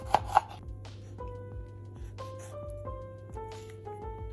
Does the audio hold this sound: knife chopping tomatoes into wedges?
yes